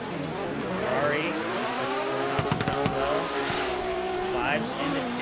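A Ferrari drift car on a competition run at Long Beach, engine roaring and rising and falling steadily as the tires squeal in long sliding bursts, with a rattling clatter partway through.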